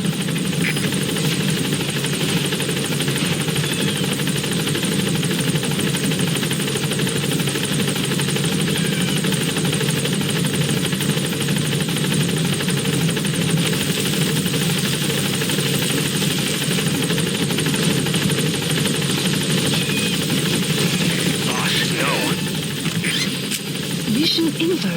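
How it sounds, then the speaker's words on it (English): Extraction helicopter in Metal Gear Solid V: The Phantom Pain, a steady broadband rotor and engine drone held at constant loudness throughout, with voices talking over it. "I'll send the extraction chopper"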